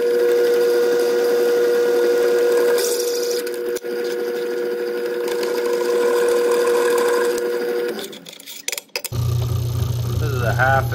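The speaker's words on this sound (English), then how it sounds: "I got this fancy drill press that I got and haven't really used yet." A drill press runs with a steady motor whine and hum while boring holes with a 1/2 inch bit, a continuous near drone that cuts off toward the end before a brief low rumble.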